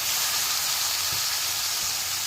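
Steady bright sizzling hiss of a cauliflower sabji tempering in hot oil with salt and turmeric, continuous and close, with a couple of faint low knocks beneath.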